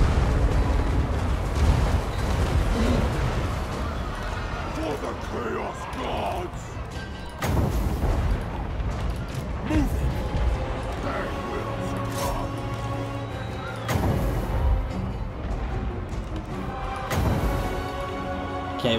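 Cannons boom across a Total War: Warhammer 2 battlefield, heavy blasts and crashing impacts recurring amid dense battle noise and game music, with a player talking over the din.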